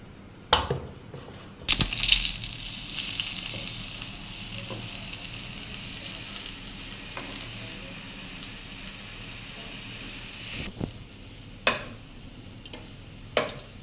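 Lentil fritters (dal bora) frying in oil, a soft steady sizzle that runs throughout, broken by a few sharper clatters of utensils near the start and end.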